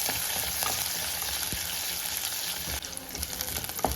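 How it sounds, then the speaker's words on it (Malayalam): Green chillies and ginger fry in oil for Kerala-style inji puli, giving a continuous, fairly close sizzle with soft stirring scrapes and a few sharp spatters. "പച്ചമുളക് കൂടെ ചേർത്ത് കഴിഞ്ഞാൽ നന്നായിട്ട് ഇതെല്ലാം എണ്ണ കിടന്ന് ഒന്ന് മുരിഞ്ഞു വരുന്ന പരിപാടി"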